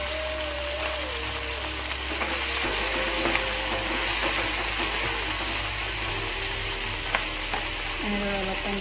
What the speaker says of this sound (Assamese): এতিয়া মই মাছখিনি অলপ টাইম ভাজি ল'ম।